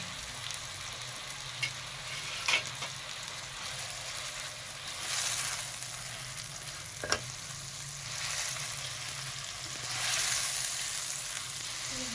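Chicken sizzles in a pan with salt and ground white pepper for a samosa filling. A soft, steady frying hiss runs throughout, broken by a few light scrapes of stirring. It is quiet and close, with no talk.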